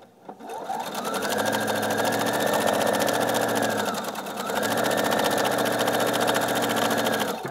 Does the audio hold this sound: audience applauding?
no